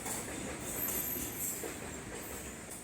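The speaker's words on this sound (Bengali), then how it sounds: "ট্রেন যাচ্ছে তা যাচ্ছে" Train rolling across the Farakka Barrage rail bridge in Murshidabad, a steady continuous rumble with a faint metallic squeal, no voices.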